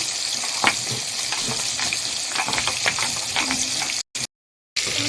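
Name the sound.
fish frying in hot oil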